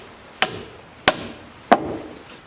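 Three sharp, evenly spaced hammer blows drive nails into wood blocking on a deck frame for an A-frame cabin, each strike crisp and close with a short ringing decay.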